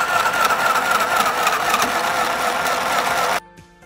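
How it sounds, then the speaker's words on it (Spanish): A sewing machine runs steadily for about three and a half seconds, stitching a cut piece of fabric for a scrunchie, a loud close whirring hum that stops abruptly near the end. "coser a mano o coser en máquina nuestro trozo de tela ya debidamente cortado"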